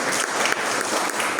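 A church congregation claps together in sustained, dense applause that holds steady and fairly loud throughout, with no voices standing out above it.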